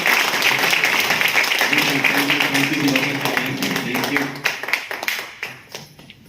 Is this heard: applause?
yes